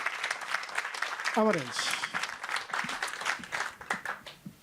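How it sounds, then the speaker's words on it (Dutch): Applause from the audience at a live Dutch talk event, steady clapping throughout with a spoken voice cutting through briefly partway. "Applaus."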